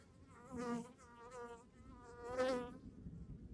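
Honeybees buzz close by over a brood frame lifted from a hive. The hum is thin and wavering and swells twice as bees pass near, against soft background noise and with no voices.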